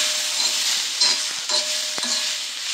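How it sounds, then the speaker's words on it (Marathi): Onion and tomato sautéing in a pan for egg masala, a continuous bright hiss of frying with occasional soft spatula scrapes, close and fairly loud, no voices. "कांदा टोमॅटो चांगला भाजला गेलेला आहे।"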